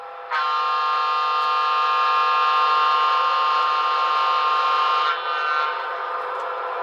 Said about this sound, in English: You hear kind of that horn resonation sound going on.